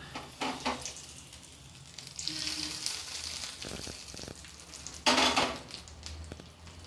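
Karuvadagam tempered in hot oil for a manathakkali leaf thuvaiyal, a fairly faint crackling sizzle with scattered utensil clinks and a louder burst of spitting oil near the end.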